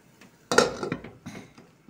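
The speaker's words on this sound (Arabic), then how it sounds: "نقلبها بس تقليبه كويسه عشان البصل ينزل تحت عشان يستوي" Onions and peas stirred in a metal cooking pot, a few scraping, clinking knocks from a spoon against the pot in two short bursts, fairly quiet and close.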